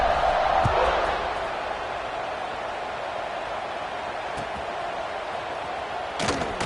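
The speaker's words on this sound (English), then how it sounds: "this crowd is buzzing after that last score" A college football stadium crowd at a Florida State versus West Virginia game buzzes as a broad, continuous roar, loudest at the start then settling, with a brief thump near the end.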